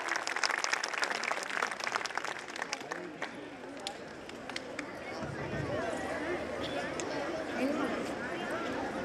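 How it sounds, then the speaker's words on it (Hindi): Audience at a school annual function applauding, scattered claps at first that thicken into steady crowd clapping, with voices and some background bustle mixed in. "और के लिए जोरदार तालियां."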